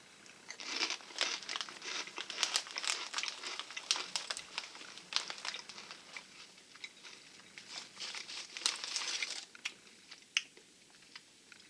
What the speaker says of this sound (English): A little bit more of a crunch on that one.